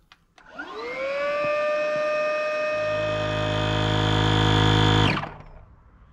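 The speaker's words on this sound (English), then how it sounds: "This is my trusty go-to pump." An electric SUP paddleboard inflation pump that reaches 20 PSI spins up and runs with a loud, steady whining hum, then drops into a deeper labouring drone before cutting off abruptly, close and without talk.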